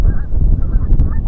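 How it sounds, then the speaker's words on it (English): Canada geese honk on a shrunken lake at a wildlife refuge, steady overlapping calls from a nearby flock with a couple of sharper honks near the end. "Here you're seeing the Canadian geese on what would have been a lake"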